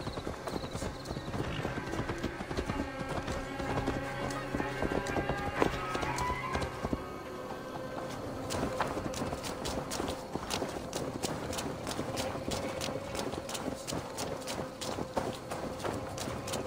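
Horse hooves clip-clop steadily in the video game Assassin's Creed Valhalla, a close, rhythmic trot of repeated sharp taps over faint background sound, with no talking.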